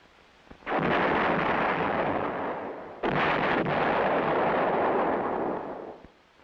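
A US heavy artillery gun, a corps general support weapon comparable to the 8-inch howitzer, fires twice; each shot is a loud, close boom that rolls into a long rumbling tail, with the second blast about three seconds after the first.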